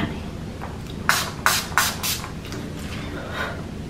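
Four short bursts of a handheld spray bottle, a hair or makeup setting spray misted near the face, hissing close and fairly loud in quick succession, with faint quieter sounds between them.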